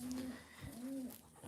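A racing pigeon coos softly in two drawn-out low calls, heard quietly against a faint background with no talking.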